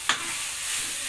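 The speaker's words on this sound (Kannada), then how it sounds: "ಸೊ ಹಂಗೆ ಈ ಕಡೆನೆ ಸ್ವಲ್ಪ ಅಚ್ಚ ರುಚಿ ಹಾಕಿ ಚೆನ್ನಾಗಿ ಫ್ರೈ ಮಾಡ್ಕೊಳ್ತಾ ಇದ್ದೀನಿ" Dal fried with chili powder in a pan gives a steady, broad sizzle that stays even throughout, with one brief scrape of a spoon near the start.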